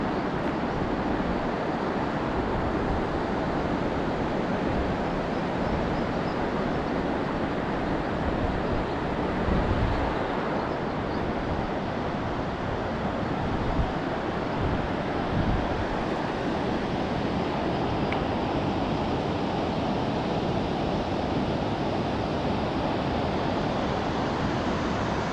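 The Elwha River rushes over the spillway of a former dam at old Lake Mills, making a continuous dense roar that stays loud and even throughout, with no voices.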